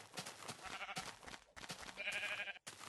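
Sheep bleat in the Minecraft video game, several short wavering bleats in quick succession over busy game sounds.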